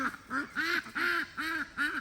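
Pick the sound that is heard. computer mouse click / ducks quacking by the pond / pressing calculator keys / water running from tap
ducks quacking by the pond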